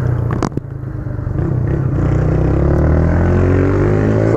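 A carbureted motorcycle engine warms up with a steady, close drone. Its pitch climbs gradually after a couple of brief clanks near the start.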